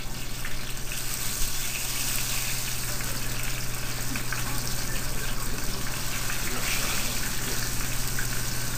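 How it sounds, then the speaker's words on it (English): Chicken chimichangas, deep-fried burritos, shallow frying in hot oil in a pan, producing a loud, continuous, even sizzle throughout with a low steady hum beneath. "I'm just going to shallow fry them"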